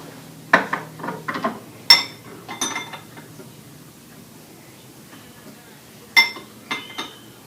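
Small objects clink and clatter into a glass jar in a few sharp, bright bursts separated by quiet gaps, fairly close and with no talking over them.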